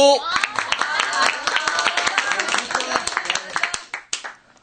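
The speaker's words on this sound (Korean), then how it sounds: "모두들 박수를 쳐주는데" Applause from a classroom of students in a Korean radio drama, with dense, close hand clapping that builds quickly, holds steady, then tapers off near the end.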